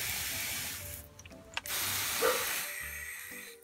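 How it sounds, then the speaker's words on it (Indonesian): A hand spray bottle mists fungicide onto Astrophytum asterias variegata cactus seedlings in several long, hissing bursts separated by brief gaps and small clicks of the trigger, close and fairly quiet. "Selanjutnya ini saya semprot fungisida lagi."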